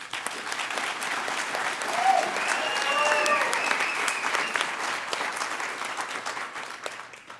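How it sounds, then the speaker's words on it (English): An audience at an alumni awards ceremony applauds for several seconds, a dense, even patter of many hands that swells slightly in the middle and then tapers, with faint voices underneath. "I really, really just want to give her a round of applause"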